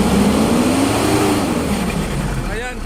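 A 2016 Mitsubishi Pajero with low power revs as its engine note climbs and then sags. The sound is loud and close, with wind or rumble noise layered on top.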